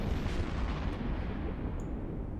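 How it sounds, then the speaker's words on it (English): Explosions from space combat in EVE Online roll out as a continuous, muffled booming rumble with a faint high ping near the end, and no one speaks. "Here comes the first explosions."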